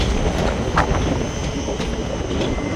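Ratnachal Express train running between Visakhapatnam and Vijayawada, a loud continuous rumble of coaches on the track with faint rhythmic wheel clicks and no talking.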